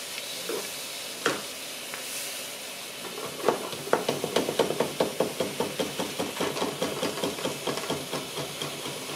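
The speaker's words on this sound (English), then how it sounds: "This is a number one PM Research steam engine running on alcohol burners." A PM Research No. 1 model steam engine fed by a boiler heated with alcohol burners runs close by: steady hiss, then a regular rapid chuffing beat that picks up speed and repeats evenly for several seconds.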